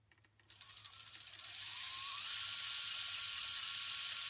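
A Sequre Ant ESC driving a 1520 brushless motor on an RC car lifted off the ground, with heavy wheel weights, winds up from low revs into a loud, steady high-pitched whir that holds at full speed.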